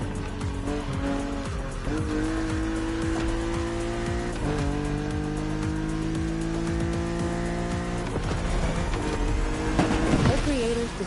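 Engine drone and screeching tires of a car in The Crew Motorfest racing game, a steady loud sustained engine tone with squeal layered on top, surging briefly near the end.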